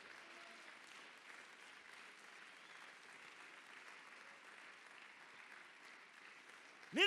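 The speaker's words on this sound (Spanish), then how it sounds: "Dele palmas al Señor." Soft, steady clapping from a church congregation, heard at a distance and continuing evenly, with a brief sharp sound at the very end.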